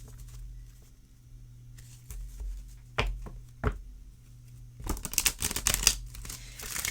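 Lord of the Rings oracle cards of heavy plastic-coated cardstock shuffled close by: a few isolated taps and slides early, then a dense run of crisp riffling clicks near the end, fairly quiet over low room hum.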